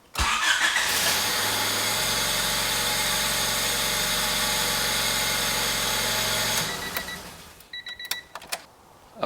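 A 1993 Honda Civic DX with a D15 engine cranks and catches, settling into a steady idle hum for several seconds before shutting off, leaving a few faint clicks and knocks.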